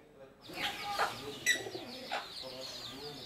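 Soft, rolling coos from pigeons close by, a few rounded calls with light chirps in a quiet setting.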